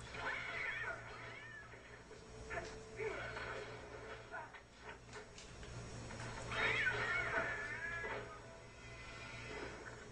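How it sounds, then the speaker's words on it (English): In the video game Sphinx and the Cursed Mummy, a cat meows repeatedly in drawn-out, wavering cries, with clear gaps between them, over game ambience and occasional talking. "Another nice cat."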